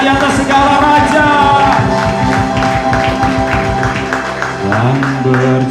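A church congregation claps along during a praise and worship service, steady rhythmic hand claps running beneath loud band music and singing throughout.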